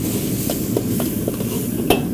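Eggplant stir-fried in a wok with dark and light soy sauce, a steady sizzle running throughout under faint spatula scrapes and taps against the pan, no talking.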